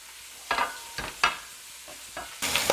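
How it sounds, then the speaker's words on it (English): Turkey wings browning in a Dutch oven give short bursts of sizzling and stirring, several spaced scrapes followed by a louder steady sizzle near the end, with no talking. "They're starting to brown now."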